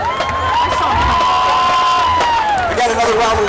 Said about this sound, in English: We got another round of applause for our homecoming courts